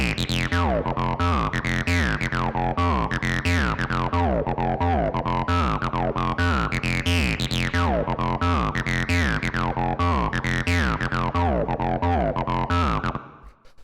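Squelchy 303 acid bass line for acid techno, a distorted resonant filter sweeping up and down over a fast repeating F-octave pattern, loud and continuous before cutting off near the end.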